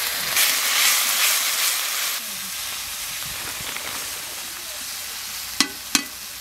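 Ginger-garlic paste frying with onion and tomato in a pan for a small fish and cauliflower curry: loud, close sizzling hiss for about two seconds, then a quieter simmer with two sharp knocks near the end.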